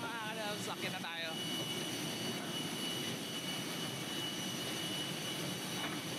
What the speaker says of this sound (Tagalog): Nandito na kami sa loob ng aeroplano.